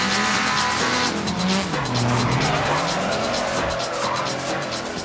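Car drifting in Need for Speed ProStreet, a continuous loud engine roar with wavering pitch and a sustained high tire squeal throughout, close and dense without pauses.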